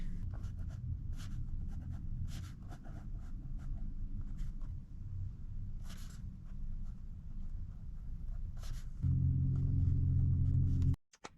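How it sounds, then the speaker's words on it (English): A pen scratches across paper in short, irregular strokes while writing a to-do list inside a camper van, close and fairly quiet over a low background rumble, ending with a brief louder hum. "I'm gonna write my to-do list for today"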